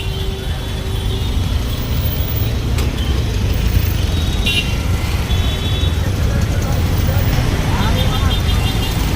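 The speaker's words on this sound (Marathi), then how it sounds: "traffic jam" Dense roadway traffic in a jam near a busy station, a steady rumble of cars, buses and trucks with scattered horn toots rising over it, voices talking nearby throughout.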